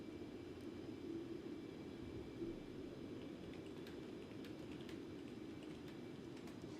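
Simulated Concorde airliner in flight, a steady low engine roar and rumble droning continuously with faint higher hiss, no speech.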